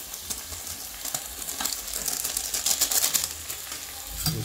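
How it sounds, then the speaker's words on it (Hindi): Spiced chicken with turmeric, salt and chicken masala roasting in a pan while being stirred; close, busy sizzling with repeated scraping strokes that grow louder midway. "उसके बाद इसको चला देता हूँ भून के।"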